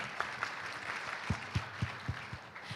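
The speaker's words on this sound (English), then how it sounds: "let us give them a big round of applause" Applause for the speakers and panelists at an ASEAN conference on combating plastic pollution, a soft wash of clapping with a steady beat of low thumps running beneath it.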